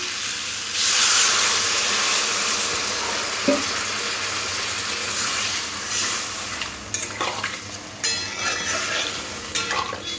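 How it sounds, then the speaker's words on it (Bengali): Water goes into a pan of giant taro curry, setting off a loud, dense sizzling hiss that runs steadily, with a few sharp clinks and splashes near the end. "এরপরে জল দিয়ে দেব।"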